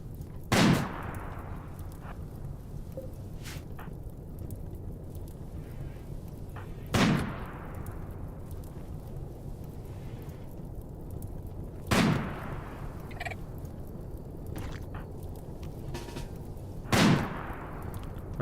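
Gunfire and bomb blasts in RimWorld: four sharp, loud impacts spaced about five seconds apart, each with a decaying tail, over a steady low background hum, with a few fainter shots scattered between.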